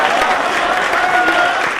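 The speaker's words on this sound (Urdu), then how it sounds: "آپ لوگ بھی ذرا بتا دیجئے گا تالیوں سے جواب کریں" Listeners at an international mushaira, an Urdu poetry recital in Pune, respond with a short burst of steady, fairly loud applause from a large crowd, with faint voices mixed in.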